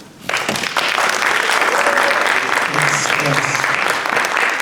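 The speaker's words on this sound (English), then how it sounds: "put together some thunderous applause for our next speaker, Marlon." A crowd bursts into loud applause that continues steadily, with a few voices and cheers mixed into the clapping.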